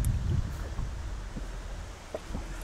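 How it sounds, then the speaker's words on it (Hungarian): North-northeasterly wind blows over a river on the upper Tisza during a cold front, a steady low rumbling buffet against the microphone with gusts, close and fairly loud throughout, no talking. "és feltámadt az észak-észak-keleti szél."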